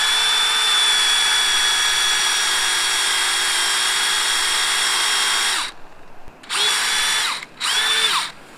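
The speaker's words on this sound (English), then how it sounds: "So that's where we'll drill. So you're gonna drill with this." A hand drill bores a tap hole into a maple tree, whining steadily at a high pitch for several seconds, then stopping and restarting in two short bursts, close and loud.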